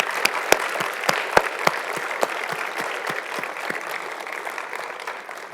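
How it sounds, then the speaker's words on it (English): An audience at a predoctoral fellowship ceremony applauds faculty mentors. The clapping is steady and moderately loud from start to finish, with a few sharp nearby claps standing out from the wash of hands. "Let's just give a round of applause for all the faculty mentors that are here today"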